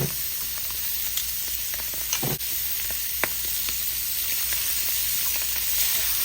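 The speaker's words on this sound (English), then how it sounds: "we're going to put it in the pan and we're going to sear it on both sides" Chicken for cream cheese enchiladas searing in oil in a pan. A loud, steady hiss with scattered crackles and a brief spatter is heard up close, and no one speaks.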